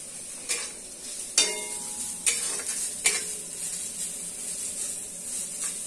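Onions and green chili frying in mustard oil for mashed banana give a steady sizzle, broken by a few sharp spatula scrapes and knocks against the pan, heard close with no voices.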